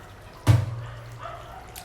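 Water poured into a cooking pot to be boiled for biryani rice, a short close splash and gush that quickly fades into a faint trickle.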